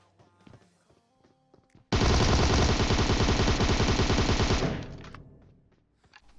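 A Tommy gun in PUBG Mobile fires one long, loud, continuous burst of rapid automatic fire at close range, lasting nearly three seconds before it tails off, with no talking.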